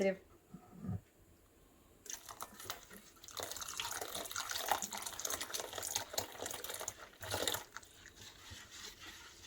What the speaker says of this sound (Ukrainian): Трішки розмішавши, додаємо молоко кімнатної температури 350 мл.